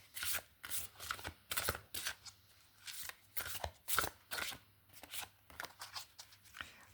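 Close, crisp riffle-and-bridge shuffling of a card deck for a reading, in quick rhythmic bursts of papery flutter and snaps repeating a dozen or so times with brief pauses in between, quiet room, no talking.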